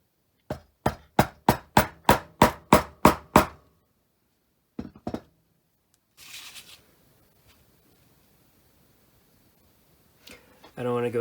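Wood chisel struck into the plastic shell of a Nintendo NES game controller: a fast run of about ten sharp, evenly spaced taps, then a few isolated knocks and soft handling noise, close and fairly loud.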